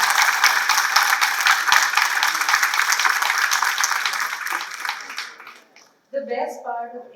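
An auditorium audience claps and cheers loudly at a conference, a dense roar that fades out near the end before a voice begins speaking.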